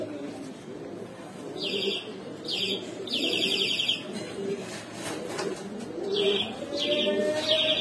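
Pigeons coo and chirp near at hand in a seller's loft, including red Sabchila birds. Short bright calls repeat in bursts over a low murmur, with faint talk in the background.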